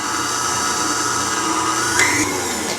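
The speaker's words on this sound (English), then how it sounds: "you want to use your whisk attachment because we want to get this kind of light and fluffy." Stand mixer with a whisk attachment whipping eggs and sugar until light and fluffy, a steady close whirring drone that holds through the whole stretch with a slight shift in pitch near the end.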